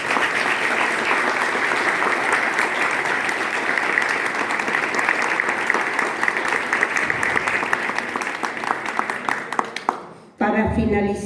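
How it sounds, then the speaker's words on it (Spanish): An audience at a talk on diagnosis and disease gives a loud, sustained round of applause for a commission, dense clapping that cuts off abruptly near the end as a voice resumes. "Pido un fuerte aplauso para la comisión del IPOL."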